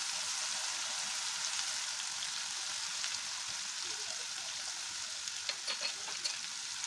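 Pabda fish sautés in a pan with turmeric and salt, giving a steady, bright frying sizzle with occasional small crackles and pops as the fish is stirred.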